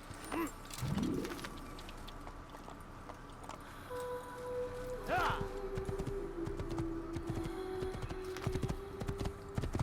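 Horse hooves clip-clopping in the video game Assassin's Creed, set in Damascus, a rhythmic trot under someone talking, with bird coos and calls and a sustained tone in the game's ambient backdrop.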